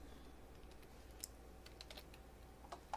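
Quiet typing on a computer keyboard while working in Photoshop, a few light key clicks scattered over a low steady background hum.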